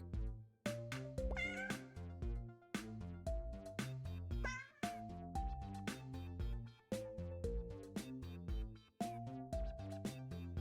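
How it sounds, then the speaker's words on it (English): Cat meows in a video game, repeated sharp calls with a musical tone, about a dozen in a steady rhythm, loud and close, with no talk over them. "That is a cat."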